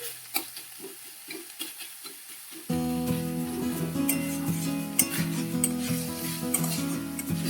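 Ginger sautéing in a pan with sugar for a chicken dish: a few light scrapes, then a louder, steady sizzle with quick stirring clatter close by.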